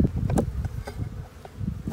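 Honey bees at an open hive being prepared for spring splits give a steady, close buzzing drone with several louder passes as individual bees fly near, and no talk over it.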